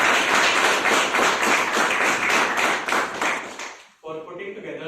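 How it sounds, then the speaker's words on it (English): An audience at a SICASA speakers forum meeting gives a sustained round of applause, dense clapping held steady for about four seconds before fading out and a voice resumes. "I would like all of you to give a big round of applause for"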